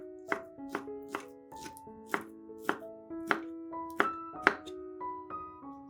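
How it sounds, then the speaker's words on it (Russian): A knife chops sausage into cubes on a cutting board, about a dozen sharp, evenly spaced thunks ringing slightly, close and clear with no talking. "50 грамм колбасы нарезаем кубиками."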